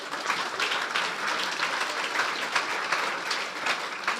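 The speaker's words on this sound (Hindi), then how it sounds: "ताली बजा दें फिर यीशु के लिए" Steady, full applause from a church congregation during a sermon, a continuous wash of many hands clapping at an even loudness with no voices over it.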